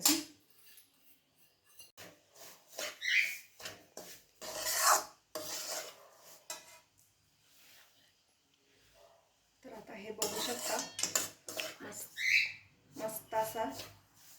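Grated coconut being roasted in a pan for rava ladu, with bursts of dry scraping as a spoon stirs it, close and intermittent, separated by short pauses.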